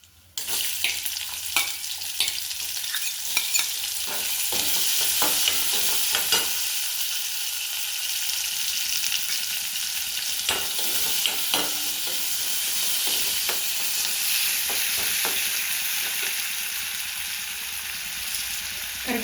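Cumin seeds crackling and onion frying in a pan for a hidakavare kalu gojju, a continuous dense sizzle with scattered pops and occasional stirring scrapes, close and loud throughout.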